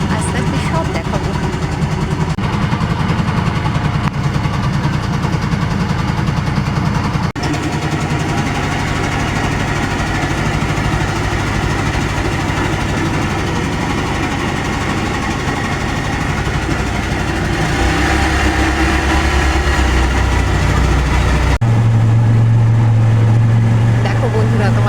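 A boat engine drones steadily through a backwater ride in Kerala, a loud continuous low rumble with vibration that shifts in pitch near the end.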